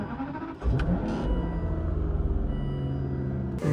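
An Aston Martin engine settles into a steady idle after a brief rise at start, a close low rumble with a faint rhythmic pulse, alone without talk.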